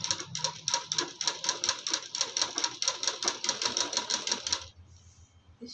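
A sewing machine stitching the lining of a suit runs in a fast, steady rhythm of close, bright clicks for about five seconds, then stops, leaving a quiet low hum.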